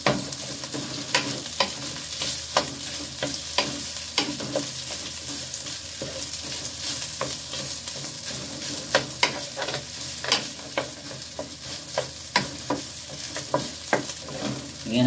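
Sticky rice being stir-fried into sinangag, with a spatula scraping and clattering in a busy, irregular rhythm over a steady close sizzle, no voices.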